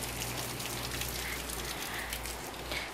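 Steady rain falls during the rainy season in Dolopo, Madiun, in a garden with longan plants. It makes a continuous, even hiss of drops on surfaces that stays moderately loud throughout, with no voices.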